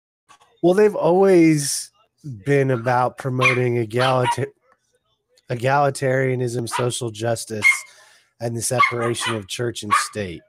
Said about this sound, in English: Please excuse the puppy dog that's running around.